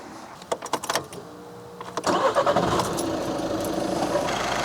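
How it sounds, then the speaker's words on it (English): An Audi A3 1.6 TDI diesel engine cranks with clicking starter sounds, then catches and settles into a steady rumbling idle, close and fairly loud. "So now I'm going to start the car for about 15 minutes"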